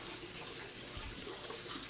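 Water trickling steadily from the level outlet of a swirl filter in a DIY aquaponics setup, a faint, continuous wash with no talk.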